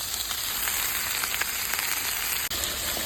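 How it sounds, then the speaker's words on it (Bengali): Onions, bay leaves, cardamom, cinnamon and garam masala frying in oil for chicken roast, a close, steady sizzle with a brief break near the end and no talking. "আর এখানে আমি পেঁয়াজ, গরম মশলা, যা যা লাগে, তেজপাতা, এলাচ, দারচিনি বেশি বেঁধে নিচ্ছি"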